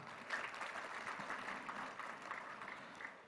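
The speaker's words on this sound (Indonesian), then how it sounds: "Tepuk tangan." A crowd at an event on Balinese culture gives a brief, faint round of clapping, soft and distant with no talk over it.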